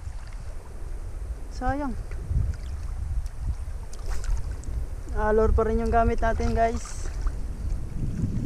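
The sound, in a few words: strong wind on a boat at a fishing spot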